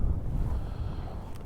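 Wind gusting steadily over snowy open ground on a cold day, a continuous low rumbling roar buffeting the microphone up close with no pauses.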